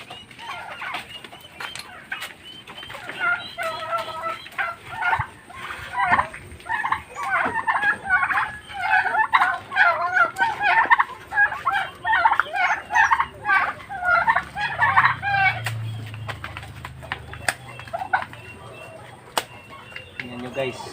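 Turkeys, including a white one, gobble loudly and repeatedly while being fed leftover rice, a dense cluster of overlapping close calls with brief pauses and some quieter background noise.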